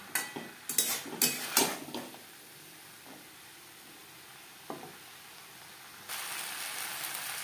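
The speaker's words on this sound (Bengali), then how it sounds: "হাই টু মিডিয়াম ফ্লেমে 2-3 মিনিট নাড়াচাড়া করে নেব" Clattering stirs of vegetable curry in a pan over a high-to-medium gas flame, a few quick scrapes and knocks early on, then quieter pauses and a steady hiss near the end.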